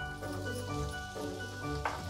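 Potatoes tipped into a hot pan of oil for frying, the first step of a Navratan pulao with cauliflower, peas and carrots, giving a steady close sizzle with a brief louder crackle near the end.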